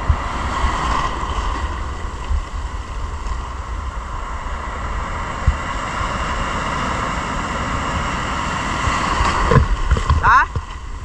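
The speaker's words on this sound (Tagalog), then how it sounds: "Malaki yung alon." Steady rushing of ocean waves and wind noise fill the clip at sea during lobster fishing, loud and continuous, with a few thumps near the end.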